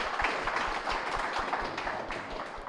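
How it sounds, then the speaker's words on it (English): An audience gives a short, dense burst of applause, steady clapping that fills the whole moment without any talking over it. "give him a round of applause"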